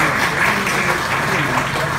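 Audience applause at a Polish business awards ceremony, a thick, even burst of clapping from a large hall, steady and fairly loud throughout.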